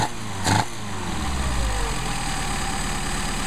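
A Mercedes 190SL engine idles steadily during a carburetor test, a close, continuous low rumble with a brief louder blip near the start before settling into an even idle.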